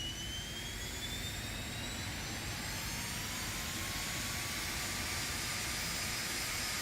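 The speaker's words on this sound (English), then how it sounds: "Listen to those engine sounds." Twin jets of an Aerobask Phenom 300 in the X-Plane 12 flight simulator spool up during engine start, a steady loud turbine roar with a high whine rising slowly throughout, with no talking.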